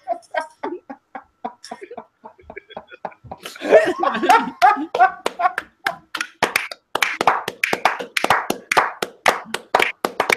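Hands clapping in short sharp bursts during a sports discussion show after a singing performance, uneven single claps spaced out at first, then faster and louder rhythmic clapping mixed with laughter and voices.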